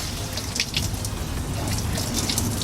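Water draining out of an engine, a steady close splashing trickle with faint drips on top, no talk.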